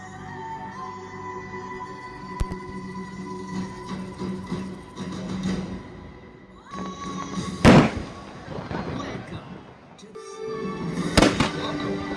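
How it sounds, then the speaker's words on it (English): Fireworks show at Epcot: loud bursts and thumps, two big booms near the end, over crowd murmur and background music. "we'll put some highlights of the fireworks in now"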